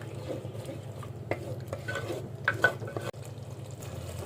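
Yogurt being stirred and sautéed in a pan with oil, soft scraping stirs and faint frying close by, with occasional spoon knocks against the pan and no talking.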